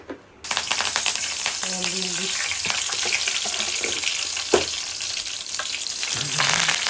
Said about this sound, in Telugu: కరివేపాకు జల్లెల్లో వేసుకొని వేసుకుందాం ఈజీగా తీయచ్చు